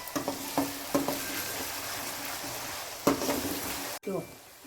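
Chopped onions and garlic frying in oil for sev usal, a steady crackling sizzle with periodic stirring scrapes and clinks, close and moderately loud.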